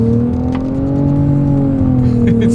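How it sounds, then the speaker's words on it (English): A 2024 Nissan Rogue with a CVT in simulated manual shift mode accelerates hard, its engine holding a steady droning whine that rises slightly and then levels off, close and loud from inside the cabin. "let's see how quickly we can get our new Rogue here up to speed"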